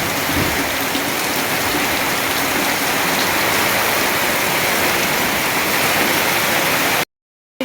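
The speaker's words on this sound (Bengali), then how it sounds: "প্রত্যেক দিন কি জোর বৃষ্টি হইতেছে দেখছেন এত পরিমাণে বৃষ্টি হইতেছে" Heavy rain pours steadily and loudly on a rural homestead, a dense unbroken wash of drops drumming on surfaces with no voices, ending abruptly.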